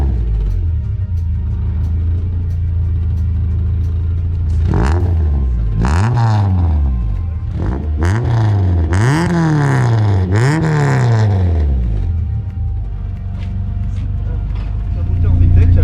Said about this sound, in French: Un moteur VTEC, alors en fait, c'est un moteur qui n'a pas de turbo